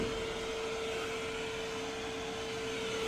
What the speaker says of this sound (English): And as you can see, my shop vac functions just perfectly fine, like it's plugged into an outlet at your house.